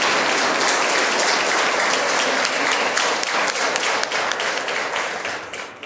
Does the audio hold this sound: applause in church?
yes